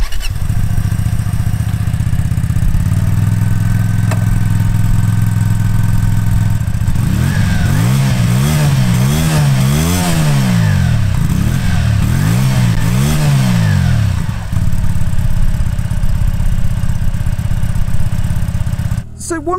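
A Hyosung Aquila 125 V-twin cruiser motorcycle rides along steadily, its engine droning loudly, then rising and falling through several revving surges and gear changes before settling back to a steady cruise, with wind noise throughout.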